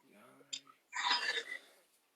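A single short, breathy sneeze bursts out after a quiet intake of breath, close and fairly soft.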